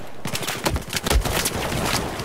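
Gunfire in Battlefield 4 multiplayer on Dragon's Teeth Pearl Market, a dense run of sharp cracking shots with low thumps, steady and fairly loud with no clear talk.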